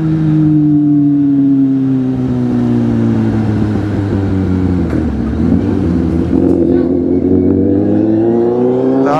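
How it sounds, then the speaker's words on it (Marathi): A car engine revs and drones steadily close by while being driven, its pitch rising and falling with throttle changes throughout, loud and continuous with no talk. "दादा लय भारी चालवतोय गाडी आता सध्या तरी"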